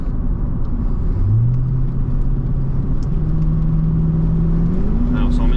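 The engine of a 2001 Chevrolet Corvette C5 drones steadily from inside the car while driving, its pitch stepping up as it accelerates through the gears over constant road rumble.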